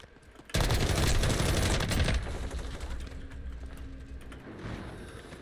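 LMG gunfire in the video game Modern Warfare 3: a loud, rapid automatic burst lasting about one and a half seconds, followed by quieter scattered shots and game ambience.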